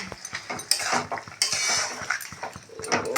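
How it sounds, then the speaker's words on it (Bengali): Shrimp sautéing in a pan: close, busy metal scraping and clinking as a spatula works the pan, with a faint sizzle underneath and irregular sharp knocks throughout. "চিংড়ি মাছটা নিয়ে একটু কষিয়ে নিই হালকা করে"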